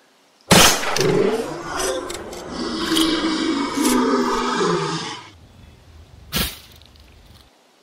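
A lion roars loudly and close up in a long, rough, rumbling burst lasting several seconds, followed by a brief quieter pause and one short sharp final grunt.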